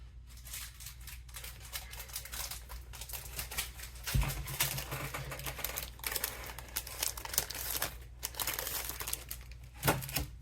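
Paper envelopes handled up close, with continuous soft crinkling, rustling and light tapping, plus a few sharper thumps as they are set down.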